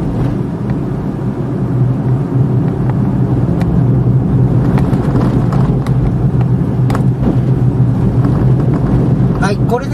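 A Suzuki Every kei van on a test drive with halogen headlight bulbs, giving a steady low engine and road rumble with occasional light knocks and clicks from the cabin.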